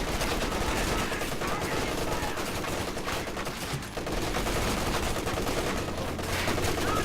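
Sustained machine gun battle in a World War II style strategy video game, including a .50 caliber gun: dense, continuous rapid automatic fire with overlapping bursts, loud and steady throughout, with a short dip in the middle.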